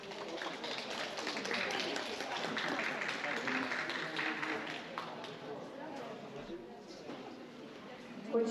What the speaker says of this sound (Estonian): Aplaus sportlastele.